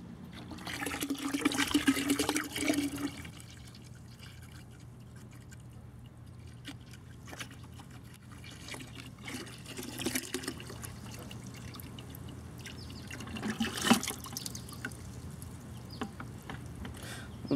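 Water flows through a siphon hose into a bucket, a soft splashing trickle that swells in two louder bursts and otherwise runs faintly with scattered drips.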